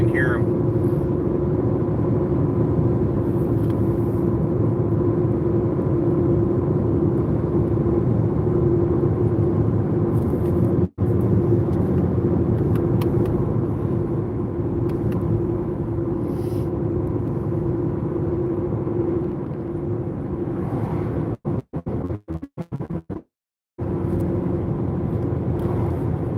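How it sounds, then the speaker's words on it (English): Loud, steady low rumble of a Jeep's tires rolling on the road from inside the moving vehicle, continuous throughout with a brief dropout near the end. "Tires I got on this Jeep are so loud."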